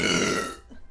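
A woman lets out a loud, close burp after drinking soda, a single rough belch that fades out within about half a second.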